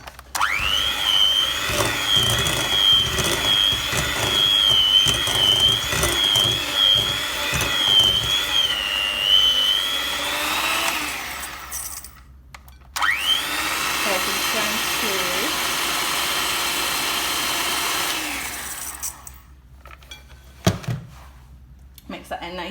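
Dorset apple cake batter being mixed with a whining electric mixer, a steady high motor drone running for about ten seconds, then stopping, then starting again for several more seconds, with a person talking between runs.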